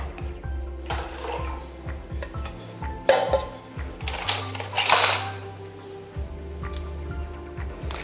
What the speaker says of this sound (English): This is just water from the tap.